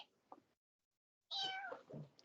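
A person imitates a cat's meow, first with a faint short mew, then after a pause with one louder, drawn-out meow that trails off, heard alone and close.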